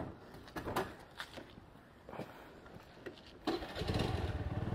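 A new Honda Dio scooter starting up: irregular clattering knocks and bursts, then the engine catches and settles into a steady, close, low idling hum.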